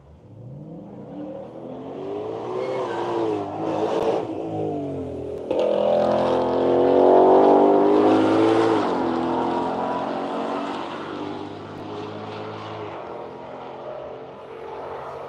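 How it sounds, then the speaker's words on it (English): A Shelby performance car's engine revs hard and roars as it pulls away on the Hedge Hollow racetrack in Missouri on a quiet morning, rising in loudness through the middle before easing off, with no talk over it. "the noise of that Shelby piercing the quiet Missouri morning"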